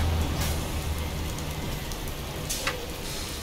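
Soft, steady rainfall in the video game Euro Truck Simulator 2 hisses at low volume, with a couple of faint brief crackles and no voices.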